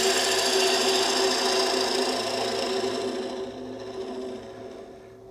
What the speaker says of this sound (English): see how the bowl gouge goes in a similar sort of cut.